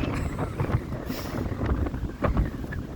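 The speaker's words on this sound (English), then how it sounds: "Oh my goodness, it's windy." Steady wind buffeting the microphone, a low rumbling roar with gusts that swell and fade throughout, no talking.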